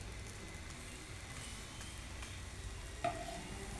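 Peanut holige cooks on a tawa over a low flame, giving a faint, steady crackle and sizzle with a brief tap near the end and no talking.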